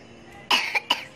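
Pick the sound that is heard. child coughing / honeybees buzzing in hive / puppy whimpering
child coughing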